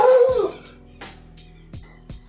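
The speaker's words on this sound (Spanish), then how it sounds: "Ahí ladró mi perro recién." A dog at home gives a howling yelp followed by a few short, faint barks or yips spaced apart, fairly close and clear over a quiet background.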